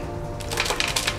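Homemade granola of nuts and dried fruit soaked in apple juice pours onto a parchment-lined baking tray, a brief patter of scattering clusters rising out of low kitchen background.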